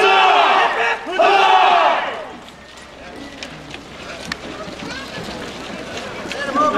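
A crowd in a Fort Ticonderoga game scenario roars a loud collective huzzah for the king, a big shout over the first two seconds that trails into scattered voices and rustling.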